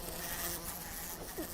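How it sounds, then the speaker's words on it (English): A fly buzzes in an audio drama, a faint thin drone over quiet background hiss, lasting only a moment. "there's a fly, and it's buzz, buzz,"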